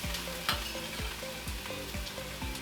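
Chopped, smooshed garlic fries in a pan in an RV kitchen, a steady sizzle broken by regular clacks of a utensil stirring against the pan.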